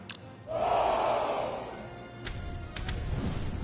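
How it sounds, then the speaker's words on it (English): A crowd cheers in the Sons of Steel video game, a loud massed battle-cry swell that rises after a brief pause, fades, and gives way to scattered thumps and continued crowd noise. "Let us raise up a great cheer"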